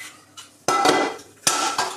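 Aluminium tea lights clatter inside a metal colander as it goes into a pot, with a light tap and then two loud, close metallic clanks that ring briefly; no talking.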